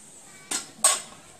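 Two sharp metallic clanks of a frying pan being handled in a home kitchen, brief and close, about a third of a second apart, with quiet room tone between.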